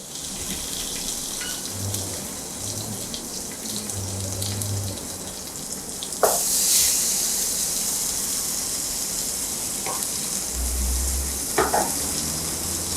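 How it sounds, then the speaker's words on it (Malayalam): Masala-coated Karwari fish sizzles in hot coconut oil in a pan, a continuous frying hiss that jumps louder as pieces go in, with occasional clinks and low thumps nearby and no talking. "പാൻ ചൂടായിട്ടുണ്ട്. നമ്മൾ വെളിച്ചെണ്ണ ഒഴിച്ചിട്ടുണ്ട്. ഇപ്പം നമ്മളിതിലേക്ക് വെക്കുകയാണ്."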